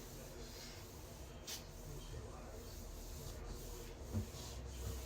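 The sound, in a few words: hand smoothing down a furniture transfer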